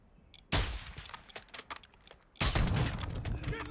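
Two bursts of rapid gunfire crackle in quick succession, sharp and dense, with brief scattered shots between them, in Call of Duty: Warzone DMZ.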